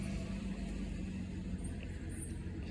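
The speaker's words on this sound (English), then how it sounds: "excuse the noise, it's neighbors truck." A neighbour's truck passes nearby as a steady low engine rumble, even and continuous throughout with no other clear sounds.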